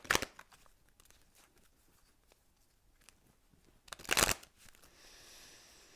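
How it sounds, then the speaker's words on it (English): Tarot cards shuffle in two quick riffling bursts, close and crisp, separated by faint handling and rustling. "Wait, I want to shuffle the other way."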